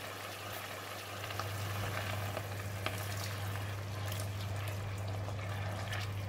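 Tapioca flour slurry poured into a pan of sizzling bitter gourd and minced pork in black bean sauce, giving a steady close bubbling and frying hiss with watery crackle over a low stove hum.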